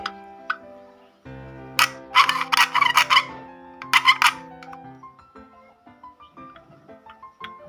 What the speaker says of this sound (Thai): ตรงนี้ใช้เลื่อยนะครับเลื่อย